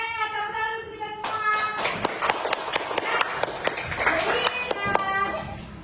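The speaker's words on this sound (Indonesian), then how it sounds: "tepuk tangan untuk kelompok 1" Primary school class clapping for a group of classmates in an Indonesian classroom, uneven scattered hand claps and taps following a teacher's voice, with children chattering and moving about nearby.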